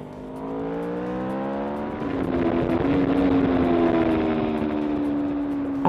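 A 2015 Aprilia RSV4 RF, a 1000 cc sport motorcycle, revs steadily, its engine note climbing and holding high and loud throughout, with no voices.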